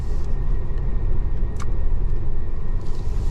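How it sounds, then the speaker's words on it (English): A Lincoln Town Car drives along, its low, steady engine and road rumble filling the cabin at a constant loud level, with a brief higher hiss partway through. "you want to watch me drive my town car home"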